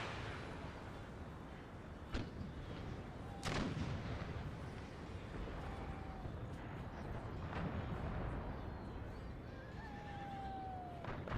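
Distant artillery volleys in Empire: Total War, a few dull thuds and booms spread over a steady battlefield din, with horses whinnying faintly in the background.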